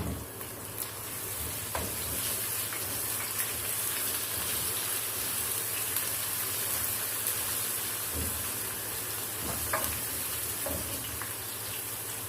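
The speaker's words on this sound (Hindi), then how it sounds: "लहसुन को भून लेंगे।" Steady crackling sizzle of garlic frying in a hot pan, continuous and close, with occasional louder pops.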